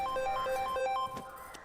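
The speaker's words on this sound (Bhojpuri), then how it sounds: "अरे फोन बाजा तो देखी ना" A telephone ringtone plays as a repeating electronic melody of short bright tones, steady and fairly close, breaking off after about a second with a faint tail.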